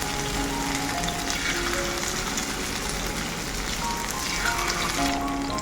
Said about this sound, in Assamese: এতিয়া এক পিচকৈ ইয়াতে ভাজি দিম